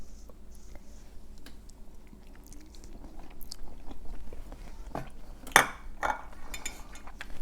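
Close chewing of homemade natto mixed with soy sauce, soft wet mouth sounds with a few sharper clicks near the middle, likely a utensil touching a bowl, over a quiet room.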